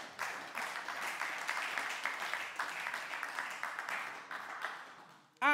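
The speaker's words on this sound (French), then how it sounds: "Si vous croyez, acclamez le Seigneur." A church congregation claps and cheers in praise at a worship service, a fairly quiet sustained wash of applause that cuts off with a brief loud burst at the very end.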